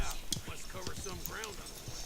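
Horse hooves gallop in Red Dead Redemption 2, a soft, rhythmic clip-clop running under a voice talking over the game.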